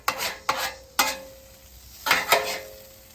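Soft scrambled eggs are stirred and scraped on a hot griddle, with several sharp spatula scrapes over a quiet steady sizzle, close by and with no voices.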